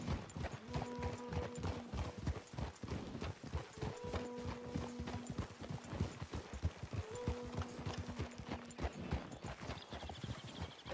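Hooves clip-clop in a steady rapid rhythm as a horse runs in the Red Dead Redemption 2 video game, close and continuous, with horizontal music tones layered underneath.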